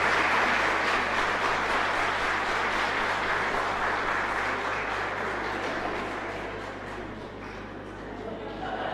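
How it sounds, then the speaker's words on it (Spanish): Congregation applauding in a church during a live Mass at a chapel, a dense steady wash of clapping that slowly fades, with voices mixed in beneath. "Fuerte aplauso."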